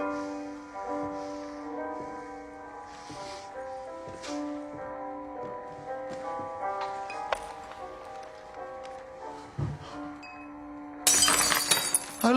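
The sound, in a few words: glass dropped and breaking on the floor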